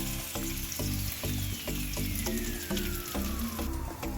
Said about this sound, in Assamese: এইখিনি মই ৰঙা হোৱালৈকে ভালদৰে ভাজি ৰাখিম।